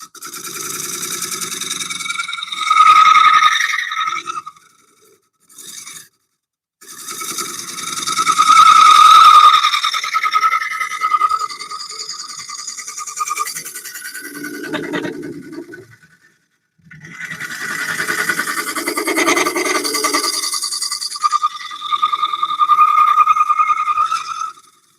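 A thin wooden bowl spinning on a lathe while being turned, giving a loud, continuous scraping and whirring in long bursts with brief pauses between cuts.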